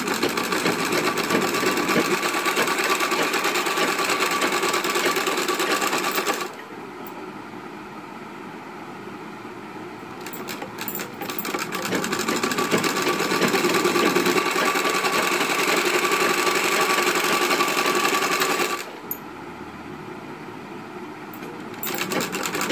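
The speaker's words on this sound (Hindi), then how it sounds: "तो उल्टे तरफ से ही सिलाई चलाएं।" A sewing machine stitches fabric inside out for a drawstring cord for a blouse or suit, running in a loud, continuous whirring hum close by, pausing briefly twice before starting again.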